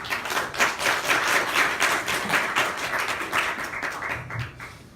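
An audience at a fair trade policy seminar claps to welcome a speaker, a dense burst of many hands that gradually thins and fades toward the end.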